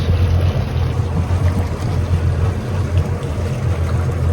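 Twin outboard motors on a 2022 World Cat 295CC idle at the dock, a loud, steady low rumble with lapping water and no talking.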